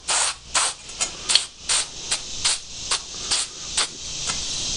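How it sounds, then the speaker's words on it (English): Short bursts of black spray paint hiss from an aerosol can onto metal conduit ends, about a dozen in a steady rhythm, close and fairly loud with brief pauses between. "Spray the ends black."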